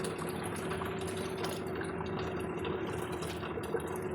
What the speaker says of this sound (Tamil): இப்போ வந்துட்டு நம்ம தண்ணி சேர்த்துடலாம்